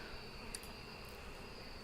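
A common bee in the beekeeping game APICO gives a steady, faint, high-pitched buzz, continuous and alone with no talk.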